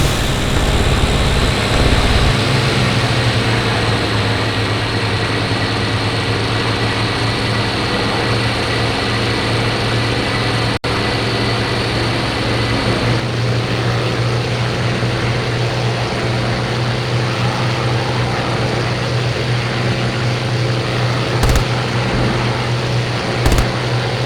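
Steady, loud piston engine drone from Spitfire and Bf 109 fighters in a flight combat video game, a continuous roar with a slight shift in tone midway, no voices.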